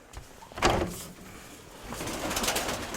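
Soft, low pigeon coos close by from a pigeon in an aviary, one burst early and a longer murmuring stretch later, over quiet background noise.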